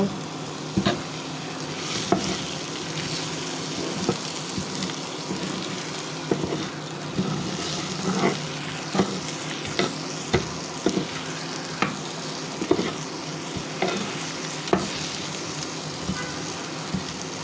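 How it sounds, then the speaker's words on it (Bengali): A pan of shrimp and potatoes frying with spices crackles continuously up close, broken by frequent spatula scrapes and taps every second or so, with no talking. "চিংড়ি মাছটাও ভাজা হয়ে গেল"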